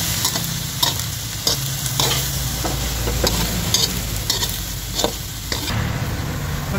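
Tomatoes and onions sizzle steadily in a hot pan for Ilocano pakbet, with a spatula scraping and stirring at irregular intervals, close and prominent, no speech.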